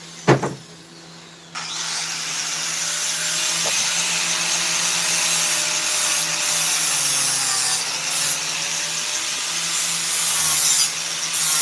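Power flap sander working over a chainsaw-carved wooden figure, a steady close abrasive whir that starts abruptly and runs continuously with slight shifts in pitch and pressure.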